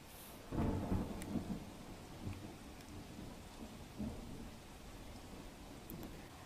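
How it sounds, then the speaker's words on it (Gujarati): Late-night unseasonal thunderstorm in Arvalli district, with a nearby thunderclap rumbling early on over a steady hiss of heavy rain, then softer rumbles as the rain keeps falling. "મોડી રાત્રે ગાજવીજ સાથે કમોસમી વરસાદ વરસ્યો."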